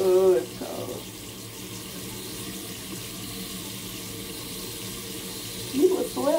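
A tap runs steadily with a continuous hiss of flowing water, with a brief voice at the start and another near the end.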